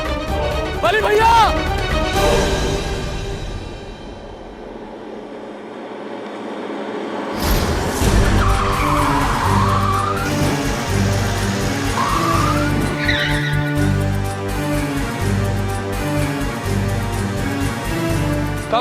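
Jeep skidding with tires squealing in a dramatic scene, engine roar and screeching rising sharply after a brief lull, with music and voices around it.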